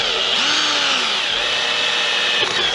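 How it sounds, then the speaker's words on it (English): A drill bores a pilot hole straight into an aluminium curved roof rafter on a van, a steady high-pitched whine running loud and close for the whole stretch with no talk. "So I'm just going to drill straight in."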